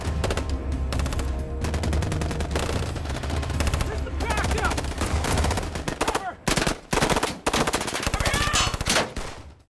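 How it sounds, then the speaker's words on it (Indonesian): Bursts of gunfire from a film shootout between police and a gang, rapid machine-gun volleys and single loud shots packed densely together, with brief gaps toward the end. "Melihat kalau para polisi kini udah ada di lokasi dan lagi baku tembak dengan kelompok Sly"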